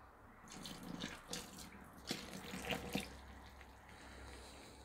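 Vinegar, 30 centilitres, pours into a pan while bee candy is made for winter feeding: an irregular liquid splashing and trickling close by, with a few louder gurgles and no talk.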